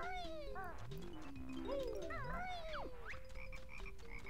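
Cartoonish frog croaks from the video game Banjo-Kazooie chirp and warble in quick, rising and falling bursts over a steady game background, several calls overlapping at close range.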